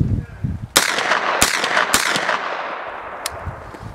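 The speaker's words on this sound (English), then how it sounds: "First I will shoot a couple of semi-auto rounds" An MP5 submachine gun fires a few separate semi-automatic shots outdoors, sharp loud cracks spaced irregularly apart, each followed by a brief echoing tail.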